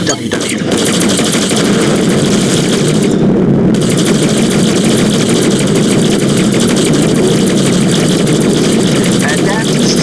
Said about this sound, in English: that's the sound of our turret going off shooting at somebody